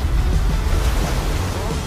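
Ocean surge waves churn in a loud, continuous wash of rushing water and wind-buffeted noise, close and unbroken, with no voices.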